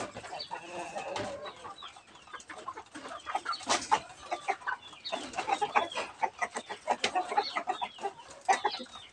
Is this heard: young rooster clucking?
yes